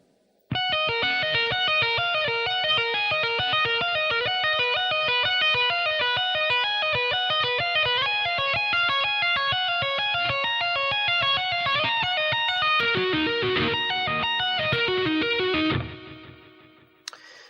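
A fast, distorted electric guitar tapping arpeggio sequence runs in rapid, even notes, loud and unaccompanied for about fifteen seconds before stopping.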